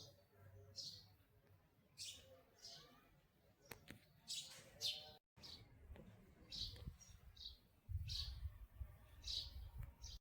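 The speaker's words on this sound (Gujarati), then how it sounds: "પક્ષીઓનો અવાજ પણ આવે છે કલરવ કરે છે" Birds chirp in short repeated bursts against a quiet outdoor background, moderately near, with faint low rustling between calls.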